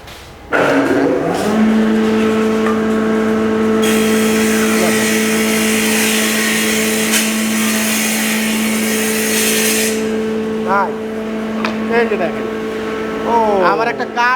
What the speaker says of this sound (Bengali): এটা কেটে ফেলে এখন ওকে মেশিন স্টার্ট করি